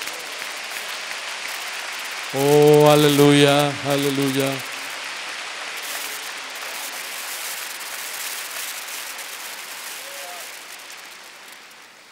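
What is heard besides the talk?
congregation applauding in church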